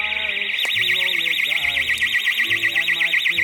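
A loud, continuous warbling electronic alarm wails steadily throughout in St. Andrews, with faint background noise beneath it.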